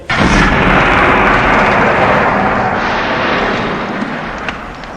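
A loud, sustained roaring blast with heavy rumbling that slowly fades over several seconds, dominating the scene with no voices.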